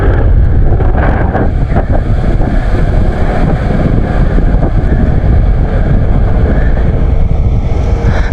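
Strong wind roars and buffets the microphone continuously during a bicycle ride, loud and close, with a faint wash like water or waves underneath.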